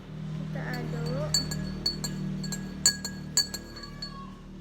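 A spoon stirs coloured liquid in a glass for a capillarity and Archimedes physics experiment, giving a series of bright clinks against the glass at irregular intervals over a low background hum.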